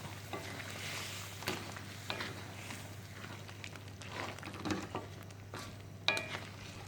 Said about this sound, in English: now we're going to stir this and let it cook for about 10 minutes